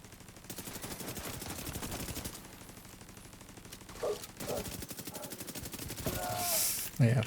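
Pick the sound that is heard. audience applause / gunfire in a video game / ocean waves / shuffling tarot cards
gunfire in a video game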